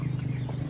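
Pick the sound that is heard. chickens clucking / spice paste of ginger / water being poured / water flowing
chickens clucking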